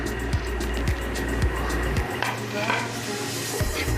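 Chopped spinach being added and stirred into gram flour batter for pakoras, soft mixing and squelching with a few light knocks against the bowl, close and moderate, no talk.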